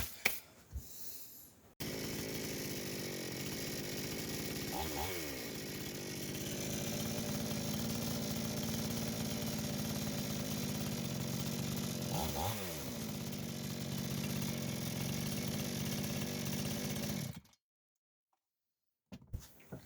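A Kitprom gasoline chainsaw engine runs steadily after a carburetor replacement, a moderate, even buzzing idle with two brief revving surges, close by, ending abruptly.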